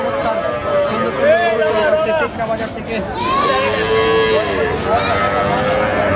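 Cattle lowing at a busy rural cattle market by a ferry ghat, several loud drawn-out moos close by, overlapping a hubbub of crowd chatter and people talking.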